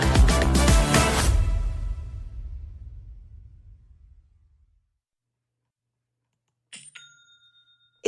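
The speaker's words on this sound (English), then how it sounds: "That's the sound of another sale or another dollar hitting your Shopify e-commerce store." A Shopify sale notification chime plays as a short, bright two-tone electronic ding near the end. It follows a loud musical passage that fades into silence.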